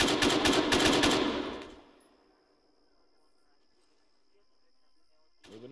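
Rapid automatic gunfire in a squad-based military video game rattles loudly for nearly two seconds, then cuts off into near silence broken by a faint steady tone and a brief clank at the end.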